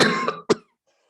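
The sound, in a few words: coughing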